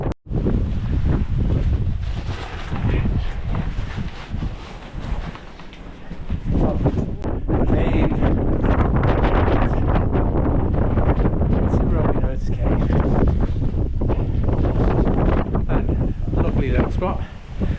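Gusty wind buffeting the microphone on a blustery hillside walk along Stanage Edge, loud rumbling roars that rise and ease in uneven surges, with a brief lull before building again and staying strong.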